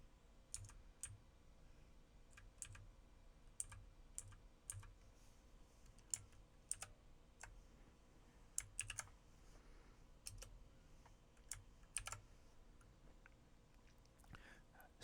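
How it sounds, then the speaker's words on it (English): Scattered clicks of typing on a computer keyboard with a firmer keypress near the end, close and fairly quiet, no talk. "I'm going to press our enter key and go ahead and put that in."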